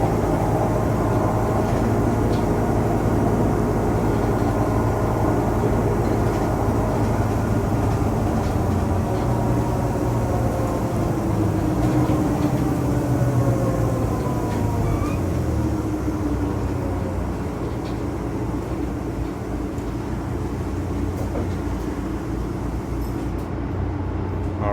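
Steady interior drone while riding aboard a Mercedes-Benz Conecto G articulated bus with a ZF transmission in Ljubljana, a continuous low engine and road rumble with shifting tones as it moves, no talking.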